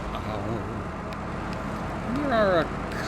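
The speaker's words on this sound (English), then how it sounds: "in-cab definitely muffles the sound this truck makes" A truck engine in a SnowRunner-style off-road video game, heard from inside the cab, gives a muffled low hum with a brief rising rev near the end, while a voice talks over it.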